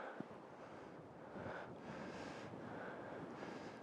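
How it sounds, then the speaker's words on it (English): A stiff headwind on a disc golf course rushes and buffets across the microphone in a continuous, moderately faint roar that swells in gusts, with no talking. "Again, pretty stiff headwind"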